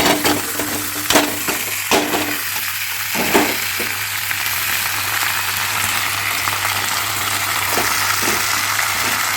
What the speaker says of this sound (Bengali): এরপর আমি এই যে সেদ্ধ কচু শাক ঢেলে দেবো।